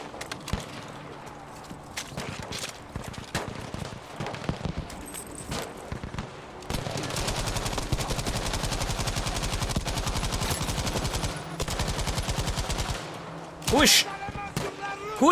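Machine gun fire in Battlefield V, with scattered shots giving way to long sustained rapid bursts of automatic fire, loud and close, and a voice talking at times over the battle noise.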